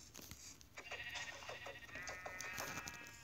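Sheep in the Minecraft video game bleat several times in quick succession, a string of wavering, nasal cries at close range against a steady background hum.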